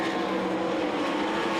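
360 sprint cars racing at the Knoxville Nationals, a loud continuous roar of engines at full throttle blending into a dense, steady drone.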